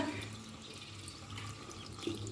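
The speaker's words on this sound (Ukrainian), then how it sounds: "а тепер я заливаю водою, аби вода вийшла" Water runs and splashes steadily into a pan of stewed steak, a soft continuous hiss with faint sizzling underneath, close by and without speech.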